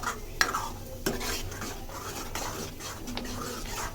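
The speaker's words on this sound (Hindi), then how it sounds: "देखो, इस तरीके से भूनते जाना है।" Ground garlic, green chili and ginger paste stir-fried in a pan, with quiet scraping strokes and a few sharp clinks of a spoon against the metal, faint sizzle underneath.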